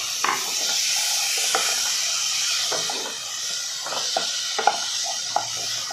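Boiled green peas and ginger-garlic-chilli paste being sautéed in a pan for aloo matar karanji, producing a soft, steady hiss with scattered light stirring taps and scrapes.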